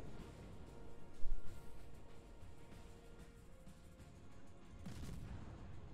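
Muffled cannon-like booms from a game, an early cluster of blasts and another later, over a low rumbling background.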